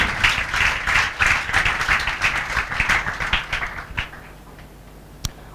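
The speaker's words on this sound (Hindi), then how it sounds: "जोरदार तालियां बजा" Students in a classroom burst into loud applause, a dense rush of many hands clapping close by that thins and fades toward the end, closing on one sharp isolated clap.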